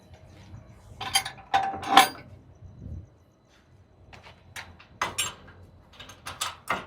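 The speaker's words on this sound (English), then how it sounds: "then that light turns green, and then the gate opens." An automated gate at a Long Beach container terminal opens with mechanical clunks and ratcheting clatter in bursts, fairly quiet with a short lull midway, amid the sound of machinery nearby.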